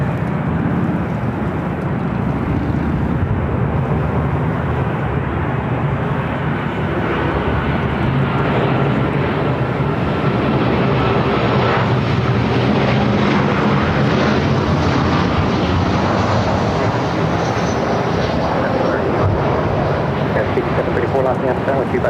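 An airliner on runway 24 left at LAX gives off a continuous loud jet roar that rises gradually in pitch and intensity over twenty seconds, with talk heard faintly beneath it.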